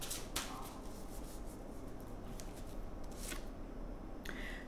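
Lenormand fortune-telling cards being shuffled by hand, a steady soft papery rustle with several sharper riffling bursts, close and alone without any talk.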